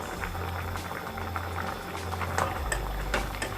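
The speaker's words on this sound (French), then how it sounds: "je vais encore laisser mijoter plus ou moins 10 minutes" A Congolese broth with green chili bubbles in a pot over the heat, with a steady close burble of popping bubbles and a low rumble, with no voices.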